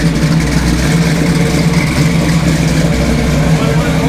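A heavily modified car engine idles with a steady, deep rumble that holds close and loud throughout, with only slight swells in the low throb.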